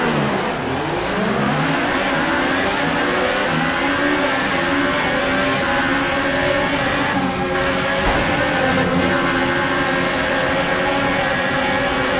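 Formula 1 cars in the F1 2018 video game roar off the line at the Russian Grand Prix in Sochi, a loud, continuous engine whine climbing steadily in pitch through repeated gear-shift rises.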